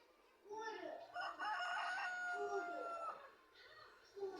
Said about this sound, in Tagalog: What sound does a rooster make?